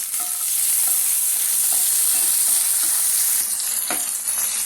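Onion and tomato sizzle and fry with spices in a pan for mutton sukka, a steady close hiss with occasional stirring scrapes throughout, no talk.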